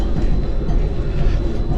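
Steady low rumble and rattle of a tram rolling along rails on the Alibeyköy–Eminönü line in Istanbul, heard from inside, continuous and fairly loud with no talking.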